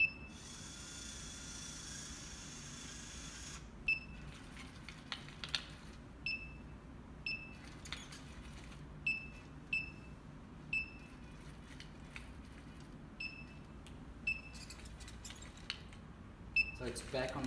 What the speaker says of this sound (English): So two beeps there indicate that it's on a second position.